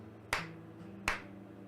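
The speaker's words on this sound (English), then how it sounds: "Can I make some clap sounds?" Two sharp, crisp hand claps about three-quarters of a second apart, close and fairly loud over a quiet low hum, each with a short bright decay.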